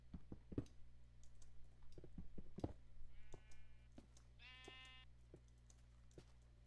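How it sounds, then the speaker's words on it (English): Two short sheep bleats from the video game Minecraft, fairly quiet, each standing out over sparse clicking and keyboard tapping against a low background hum. "Yeah, it's a sheep."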